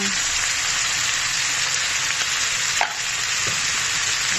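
Steady frying sizzle as spicy catfish stir-fry with sugar and salt is stirred in a hot pan, a continuous close hiss with faint scraping and no talk.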